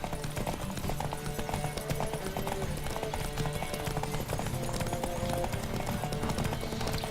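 Galloping horse hooves pound in a fast, steady rhythm during a horse race in the video game Witcher 3, with the dense drumming continuous throughout.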